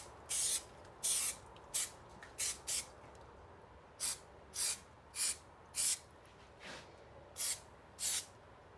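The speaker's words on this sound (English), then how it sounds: "spray them, wait for them to go tacky" Short bursts of spray adhesive hiss from an aerosol can while a BMW E34 M5 parcel shelf and speaker grilles are covered in Alcantara, about a dozen separate sprays of uneven length with brief pauses between them, close and clear.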